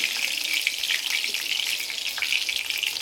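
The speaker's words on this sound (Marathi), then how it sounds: "कढीपत्ता कडकडला ना त्यामध्ये मी जिरे टाकून देणार आहे" Cumin seeds and curry leaves sizzle in hot oil in a pan, a steady close crackling hiss that continues unbroken and alone throughout.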